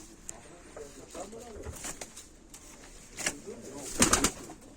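Tumbler pigeons of a Turkish high-flying breed coo in soft, repeated throaty rolls, fairly close, with a louder burst near the end and some faint background activity.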